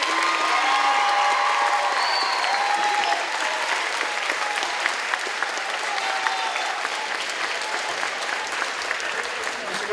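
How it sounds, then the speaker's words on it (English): Sustained audience applause fills a school ceremony as a homeroom class faces the crowd, steady dense clapping throughout, loud and continuous with a slight drop after a few seconds, no speech over it. "Please give them a big round of applause."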